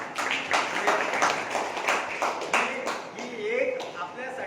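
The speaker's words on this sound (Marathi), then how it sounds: "आपण परत एकदा त्यांचं टाळ्या वाजवून स्वागत" An audience claps to welcome a guest at a white cane distribution event for blind people, with scattered, uneven claps rising and falling while voices carry through the applause.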